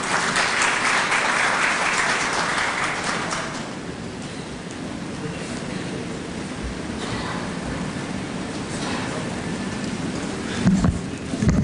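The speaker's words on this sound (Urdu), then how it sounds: "آپ کی بھرپور تالیوں میں" An audience at a Pakistani community session in Riyadh claps to welcome a speaker to the stage, starting as a loud, dense burst of applause and then settling into steady, slightly softer clapping.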